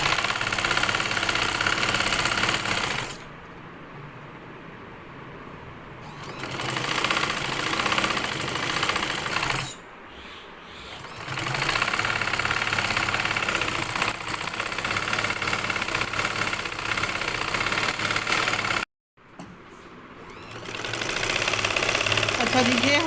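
A sewing machine stitches a belt shalwar in steady whirring runs, loud and close, stopping briefly between bursts, while someone talks over and between the stitching.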